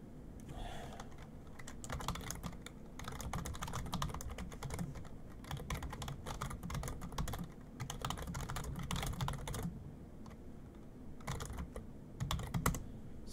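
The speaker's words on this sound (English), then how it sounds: "Sorry about the hammering on the keyboard right in the window there." Fast, heavy typing on a computer keyboard, a dense run of loud clicks and key strikes going on for the whole stretch with short pauses, close to the microphone, no talking.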